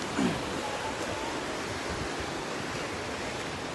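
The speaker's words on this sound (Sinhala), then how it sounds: "වතුර සැර වැඩි ගහගෙන යනවා" A steady, dense rush of flowing water fills the scene, a continuous roar of a fast stream at Golumale, Sri Lanka, with no pauses.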